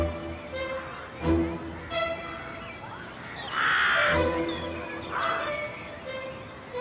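Crows caw several times at a distance, harsh repeated calls rising over a quiet background, with a louder burst of cawing midway and another shortly after.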